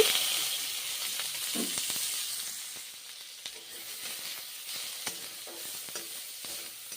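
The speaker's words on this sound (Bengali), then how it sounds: "রসুন ভেজে দিচ্ছি পেঁয়াজ ভেজে দিচ্ছি" Garlic and onion fry in a pan with a close, hissing sizzle that fades slightly over time, broken by scattered light pops and stirring clicks, with no talk.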